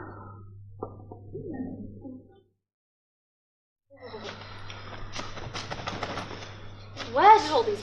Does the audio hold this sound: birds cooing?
yes